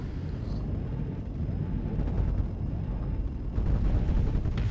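Missiles launching and detonating in the space combat game Starsector, a continuous rumbling barrage of low booms that swells louder near the end, with no talking.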